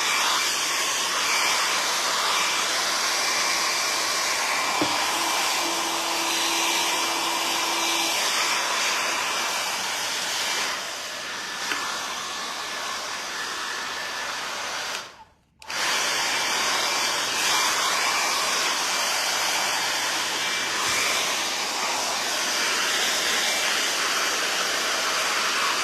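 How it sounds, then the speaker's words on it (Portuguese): A steady, loud hair dryer blowing continuously with a broad airy roar, briefly cutting out for a moment before resuming. "a gente adora usar um secador de cabelo"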